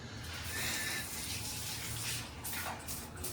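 A shower running with strong water pressure, a dense, continuous hiss of spray close by that swells slightly and then eases, with nothing else clearly audible.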